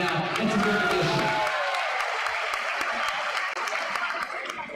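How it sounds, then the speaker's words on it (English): A crowd at a school anti-hate rally breaks into loud, sustained applause with scattered cheers, the clapping filling the space steadily from start to finish. "let's give them a big round of applause right now"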